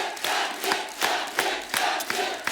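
A studio audience at a television comedy show cheers and shouts loudly in rhythmic pulses, with roaring waves of crowd noise repeating about every half second.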